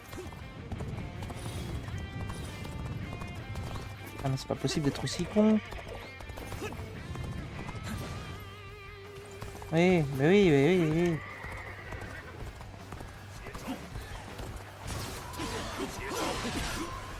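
A horse in the Dynasty Warriors Origins video game, galloping hoofbeats under someone talking in French, with two loud wavering neighs standing out in the middle, plus a sharp crash and game effects.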